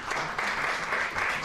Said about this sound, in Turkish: Alkışlarınızla sahneye davet ediyoruz.